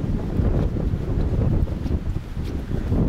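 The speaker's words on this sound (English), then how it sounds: "Oh, this is so windy." Strong wind buffets the microphone in heavy, low rumbling gusts that rise and fall continuously on a ridge near Oberderdingen, Germany, with no one speaking.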